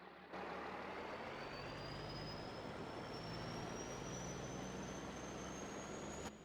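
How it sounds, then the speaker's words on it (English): A pickup truck in Farming Simulator 22 drives along as a steady, loud engine drone with a slowly rising whine, heard alone without talk. "We're gonna take a ride in our pickup truck"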